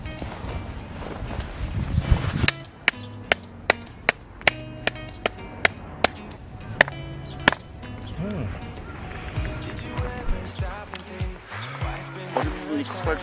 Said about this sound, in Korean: 머리 부분이 커가지고 망치질은 잘 되는데 흔들흔들합니다.